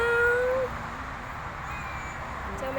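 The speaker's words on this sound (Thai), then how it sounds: "เจอแมวน้อยด้วยค่ะเมียว" A kitten meows at an ancient ruins site in Thailand, giving a couple of thin, rising mews near the start over steady outdoor background noise.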